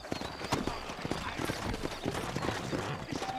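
Horse hooves clip-clop in the Red Dead Redemption video game, a steady walking rhythm of hoofbeats under a man's spoken dialogue.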